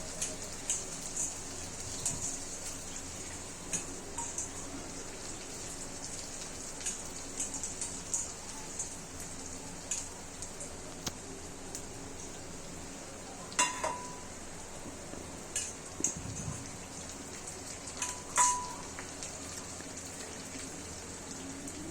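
Green turkey berry kuzhambu is stirred in a steel kadai. A steady low sizzle and bubbling runs throughout, broken by occasional sharp scrapes and clinks of the spoon against the metal pan.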